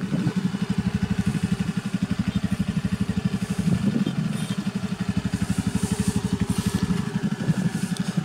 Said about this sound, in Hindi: फायरिंग भी बहुत अच्छा है। Now we watching Honda avatar 110 CC engine.